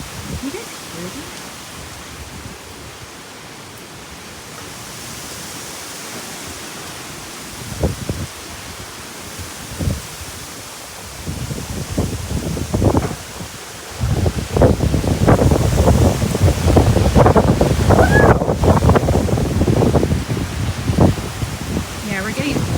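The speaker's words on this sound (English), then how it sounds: "we're getting big gusts of wind now." Big Hurricane Ian gusts build from a steady low rush into a loud, sustained roar that pounds the microphone during the second half, with people talking over it.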